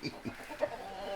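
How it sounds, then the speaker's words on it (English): A rooster clucks in a backyard, giving a few short, close, moderately loud clucks over faint outdoor background. "a little rooster action here"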